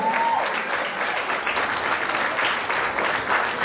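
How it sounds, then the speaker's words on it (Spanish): Party guests at a Mexican-style Sweet 16 celebration applaud together, a dense, steady burst of clapping from a crowd that holds loud and even throughout. "¡Fuertes los aplausos!"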